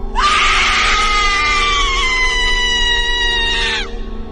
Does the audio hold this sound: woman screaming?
yes